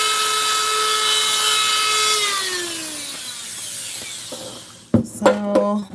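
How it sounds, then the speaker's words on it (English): A high whining drill spins down steadily, then several short grinding bursts follow as the bit bores into hard crinoid fossils, close and loud. "how to drill some holes in some crinoids"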